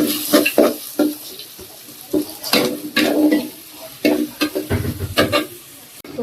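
Fish being set into a hot pan, with scraping stirs, clanks of utensil on metal and a soft underlying sizzle, close and fairly loud in short irregular bursts.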